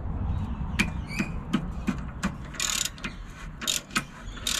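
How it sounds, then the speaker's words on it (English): A ratchet turning a rounded bolt extractor on a bolt during a turbo Subaru Forester build, a series of close, sharp clicking strokes in an uneven rhythm, with no talk. "It's a little rounded bolt extractor."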